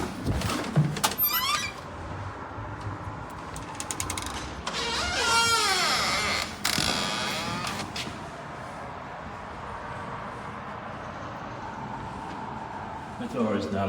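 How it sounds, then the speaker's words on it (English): A door with a magnetic lock being adjusted and locking, with several mechanical thunks, creaks and squeaks from nearby, a sliding rattle in the middle and a final clunk. "The door is now locking"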